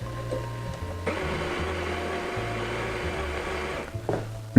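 ECM ZT270 grinder with 40 mm conical steel burrs grinding coffee beans, a steady whirring grind of about three seconds between lower motor hums and small clicks, close and fairly loud, with nobody speaking.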